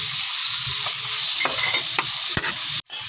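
Onion sautéing in a pan for ginisang ampalaya, a continuous close sizzle broken by a few light scrapes and taps, ending in a short sharp knock, no talk.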